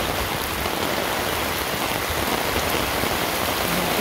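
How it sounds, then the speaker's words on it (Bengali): Heavy rain pours steadily outside a house in Mawna, Gazipur, a dense, constant hiss of drops hitting surfaces with no letup and no voices. "মুষলধারায় বৃষ্টি হচ্ছে, ভালো লাগতেছে"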